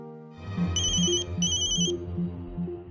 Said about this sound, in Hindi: ये मंजूषा इस वक्त मुझे क्यों फोन कर रही है?